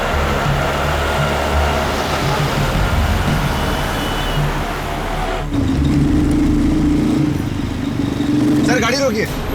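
A car engine rumbles steadily during a roadside chase scene, shifting to a deeper, steadier drone midway and rising in a brief rev near the end, with voices over it.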